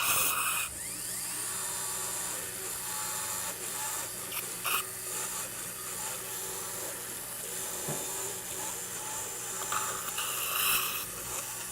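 A dental crestal remover drill whines steadily through a live ridge expansion surgery, a continuous high-pitched grinding hum that holds for the whole stretch with small dips and surges as it cuts bone.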